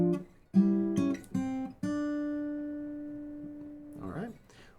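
A fingerstyle guitar plays a measure of St. James Infirmary Blues in open position: a few plucked notes and chords, the last C ringing out and slowly decaying, followed by a faint breath or murmur.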